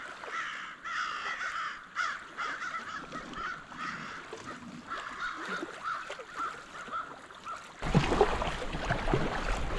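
Crows near an island shoreline cawing in agitation at a hawk perched below them in a tree, harsh repeated calls at moderate distance, followed by a sudden burst of loud wind buffeting.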